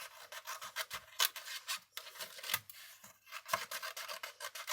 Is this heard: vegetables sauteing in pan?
no